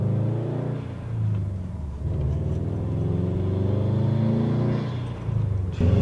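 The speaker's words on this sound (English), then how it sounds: "you can hear the spool just by a little bit of a boost" Subaru WRX STI with a Cobb Stage 1 tune revving hard, its turbo spooling under boost; a close, loud engine rumble swells and holds steadily for several seconds, with no talking.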